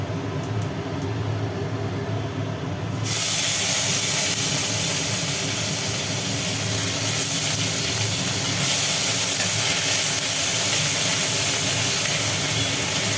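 Onion paste drops into hot oil and bursts into a loud, continuous sizzle after a few seconds of quieter background, the hiss staying dense and steady to the end.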